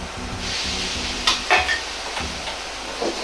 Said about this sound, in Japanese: 牛肉を炒めます。